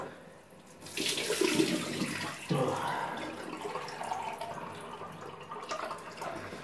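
Cold tap water runs steadily into a sink for a rinse after shaving, a continuous close splashing flow that swells after the first second and keeps going throughout.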